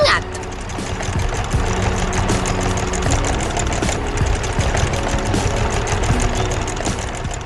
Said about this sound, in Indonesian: Traktor kuning sedang bekerja keras di ladang yang sudah dibajak